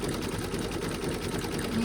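An embroidery machine stitches a monkey-design bib in the hoop, a fast steady buzzing rattle of the needle, close and continuous.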